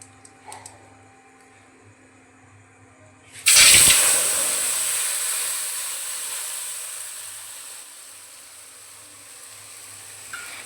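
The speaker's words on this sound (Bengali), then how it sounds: "ফোড়নটা পুড়ে আসলে তার মধ্যে দিয়ে দেব পেঁয়াজ, আদা, রসুন আর কাঁচা পাকা লঙ্কার পেস্টটা" After a quiet moment, a paste of onion, ginger, garlic and green and red chillies hits hot oil with a sudden loud sizzle that hisses on steadily and slowly fades, cooking for a fish roe curry.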